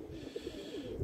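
Pigeons at a loft coo softly in a few low, rounded calls, faint and close, with no talking.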